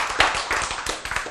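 An audience at a church sermon claps together in a quick, uneven burst of hand claps, fairly close and loud, with no talking over it.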